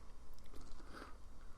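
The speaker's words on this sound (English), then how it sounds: "Let's just chew for 2 minutes straight without saying anything." Someone chewing candy, a peanut butter cup, close to the mic, producing soft, wet, irregular mastication sounds with faint crunches and no talk.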